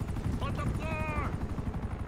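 A helicopter hovers in GTA Online during the Blackheart's Fortress survival job, its steady rotor hum thick and low under game noise, with a brief wavering whine partway through.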